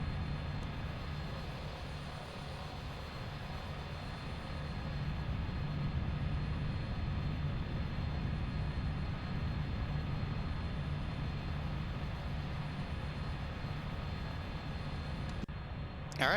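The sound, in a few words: Cessna Caravan aircraft engine running during taxi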